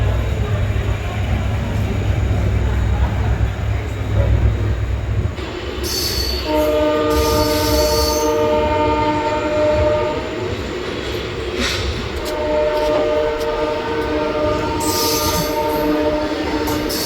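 Shri Ganga Nagar–Ambala Cantt Intercity Express departs Barnala station: a low engine rumble gives way to rolling rail noise, with two long, loud multi-tone horn blasts and brief squeals.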